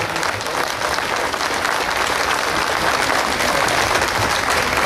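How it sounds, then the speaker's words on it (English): Loud, steady applause from a rally crowd for legislators in Montgomery, dense clapping running unbroken and evenly from start to finish. "give these guys a round of applause"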